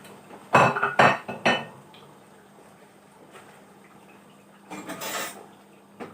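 Food is stirred in a cooking pot, giving a few sharp clanks of utensil against metal near the start and another cluster near the end, with quiet scraping between.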